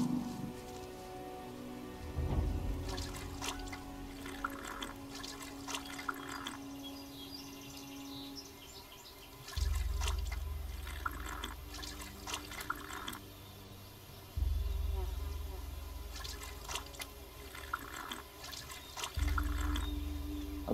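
A water barrel in the video game Risen gives off soft rushing, splashing water in repeated low bursts every few seconds, faint and steady between them, with no talking.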